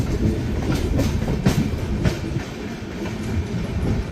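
Two trains pass each other in opposite directions, a steady loud rumble of wheels with rapid clickety-clack beats running through the whole stretch, no voices.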